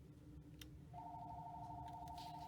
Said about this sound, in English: Don't mind my phone ringing.